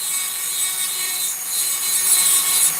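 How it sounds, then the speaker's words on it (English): A sander shaping the nose of a wooden piece, giving a steady, close, hissing abrasive rasp with slight swells in intensity and no talk. "I like doing it with the sander right now"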